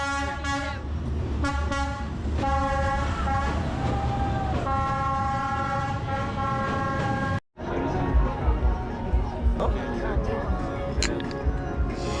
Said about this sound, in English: you get to see the train pass by inches in front of you